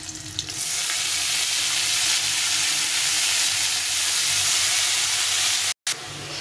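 Radish greens, mashed and added to a pan, sizzle and fry steadily at close range, a dense continuous hiss with no talk, briefly cut off near the end.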